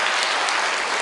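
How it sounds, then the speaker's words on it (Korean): Audience of about three hundred at a live talk event breaking into applause, a dense, loud burst of many hands clapping together, close and continuous for a brief moment. "박수 쳐야죠"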